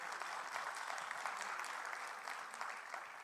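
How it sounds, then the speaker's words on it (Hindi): An audience at a literary foundation's inauguration ceremony claps after a Ganesh Vandana dance performance, a steady, dense wash of applause from many hands, moderately distant and unbroken for the whole stretch. "तालियां ज़ोरों से बजाइएगा"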